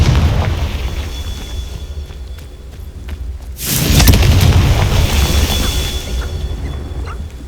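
Confringo blasting spell from Hogwarts Legacy goes off as a loud, deep explosive boom midway, with a rumbling tail that fades over several seconds amid background game ambience.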